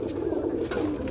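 Roller pigeons coo in a loft while young birds are fed, a steady low murmur of soft overlapping coos close by, with a faint chirp or two on top.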